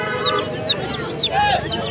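Busy bird market din with overlapping voices and several short, high bird calls, clucks and squawks from roosters and hens scattered throughout.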